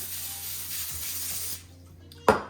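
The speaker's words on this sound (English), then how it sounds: "I'm just gonna spray it with a little bit of nonstick spray." A steady, close hiss of nonstick cooking spray from an aerosol can for about a second and a half, then it stops, followed by a brief clunk.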